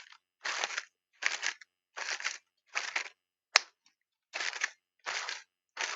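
Foley footsteps imitating walking in a forest, eight evenly spaced crunching steps with one sharp snap among them, close and moderately loud, no talking.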